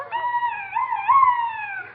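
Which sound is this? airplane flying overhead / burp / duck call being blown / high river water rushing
duck call being blown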